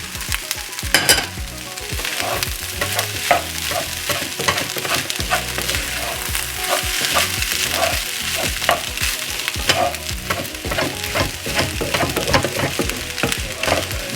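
Cooked rice is fried through in a hot pan, a loud close sizzle broken by frequent scraping and tossing clatters as it is stirred and moved around.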